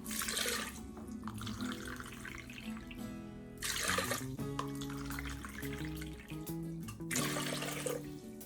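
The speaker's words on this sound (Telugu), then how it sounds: "వాటర్ వేస్తాను ముందే." Water pours into a pot of washed multigrain dal, about three cups to one cup of dal, in splashing bursts with short breaks, close by.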